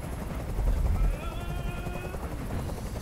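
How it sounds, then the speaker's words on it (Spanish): A helicopter hovers in the game Detroit: Become Human, a loud low rotor thrum that swells briefly in the first second and then holds steady beneath other faint game sounds. "¡No aguanto ese ruido! ¡Dile a ese helicóptero que se vaya de aquí!"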